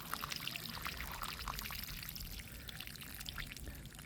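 Water poured out of a container to drain a flooded pot holding a Brazilian rain tree, a soft continuous trickling splash running steadily and fairly quiet, with no talk over it.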